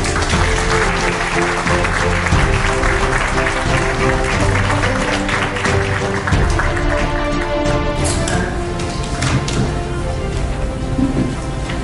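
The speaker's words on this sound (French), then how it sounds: "Je vous prie de bien vouloir les applaudir, s'il vous plaît." Sustained applause fills a hall at a French national spelling bee championship for its contestants, a dense, loud wash of clapping that continues steadily without a break.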